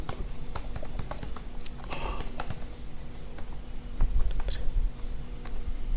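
Password being typed on a computer keyboard: a steady run of close, crisp key clicks with irregular rhythm, fairly quiet over a faint background hum, no talking.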